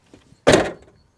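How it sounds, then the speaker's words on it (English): A single close, solid thud of a Proton Saga Iswara 1.3's driver's door closing with the window down, short and weighty, with quiet surroundings before and after. "I've just made the mistake of closing the driver's door with the window rolled down"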